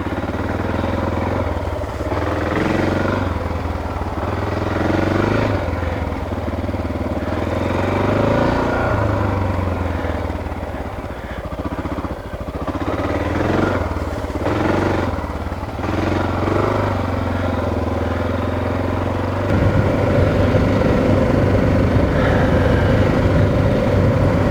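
Honda XR600R single-cylinder dirt bike, built for long mountain rides into the high Sierras, idles and runs steadily nearby for the whole stretch, with a loud, rough and constant engine drone and a coarser, louder rumble near the end.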